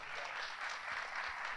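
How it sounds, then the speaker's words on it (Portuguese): Audience applause at the close of a full lecture, a steady wash of many hands clapping at moderate loudness, dense and continuous with no single claps standing out. "Gostaria de dar uma salva de palmas ao Paulo."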